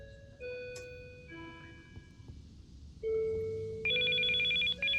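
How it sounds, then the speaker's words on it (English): A phone rings in the video game Still Life 2, a bright electronic ringtone with sustained tonal bursts that grow louder and steadier toward the end, with no talking. "her phone is ringing again"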